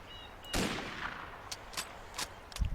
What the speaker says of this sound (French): On va essayer le headshot directement.